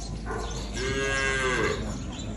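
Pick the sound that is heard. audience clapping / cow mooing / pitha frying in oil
cow mooing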